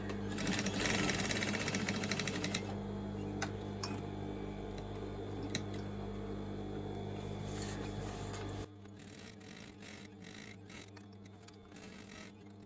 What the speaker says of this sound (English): I'm going to come and do 2 rows of stitches